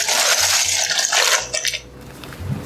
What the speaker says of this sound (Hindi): तो ये देखिए यहाँ पे पानी में उबाल आ चुका है, इसमें मैं पास्ता डाल दूँगी